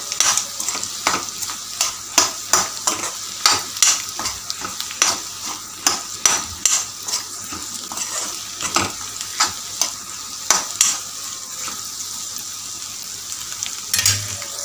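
A spoon stirs an egg podi mixture in a hot pan, scraping in a steady run of short, close strokes over a soft frying sizzle, with no talking.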